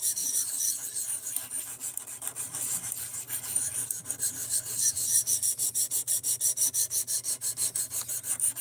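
A knife blade stroked repeatedly across a stone on a fixed angle sharpener, a steady rhythmic rasping that speeds up into regular back-and-forth scrapes toward the end, close and fairly quiet over a low hum.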